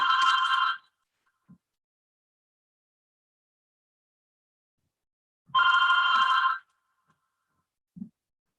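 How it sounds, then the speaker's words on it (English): A telephone rings in two separate bursts several seconds apart, each ring loud and close, with silence between and only faint soft knocks afterward. "I have no one else here to answer the phone, and it's going to ring for a little bit"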